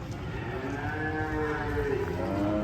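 A cow lets out a long, low moo that bends in pitch, heard against steady background noise outdoors.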